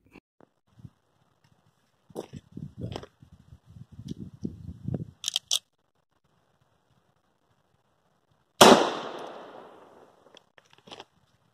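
One loud, sharp gunshot is fired into a car door in a penetration test, cracking with a ringing decay. Quieter handling clicks and footsteps come before it.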